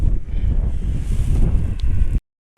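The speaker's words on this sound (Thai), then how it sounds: "แล้วก็ลมพัดด้วยนะครับ" Strong gusts batter the microphone beside the Storstrom Bridge in Denmark, a loud low rumbling buffet with a faint rustle above it that runs for about two seconds, then cuts abruptly to silence.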